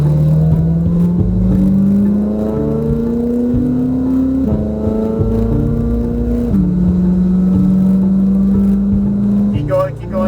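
A car engine accelerates at full throttle, pitch climbing steadily through several gear changes with shifts near 4.5 and 6.5 seconds, loud and close throughout.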